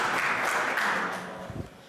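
Audience applause at a community safety meeting, a steady wash of clapping that holds evenly and then thins out, fairly close and filling the room without talk.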